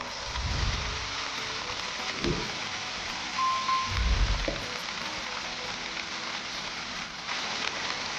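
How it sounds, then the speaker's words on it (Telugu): Cashew paste frying in oil in a pan for a paneer kaju masala curry, a steady soft sizzle with a few low stirring bumps, heard alone without talk. "కొంచెం ఆయిల్లో ఫ్రై చేద్దాము."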